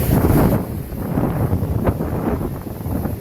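Wind buffeting the microphone outdoors beside the Malan river, a steady low rumbling roar that is strongest at the start and then settles into a continuous gusty hiss, with no talking.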